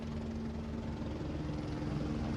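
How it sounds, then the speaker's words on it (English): A helicopter passing overhead at a motor race with a safety car on track, a loud, steady low rotor drone with a broad engine roar filling the scene, constant and close. "hear the helicopter whizzing overhead"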